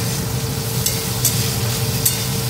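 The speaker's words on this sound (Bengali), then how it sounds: "একটু মটরশুঁটি ফুলকপি একটু ভেজে নিলাম" Peas and cauliflower frying in a pan, a dense continuous sizzle with a low steady hum beneath and faint scraping touches.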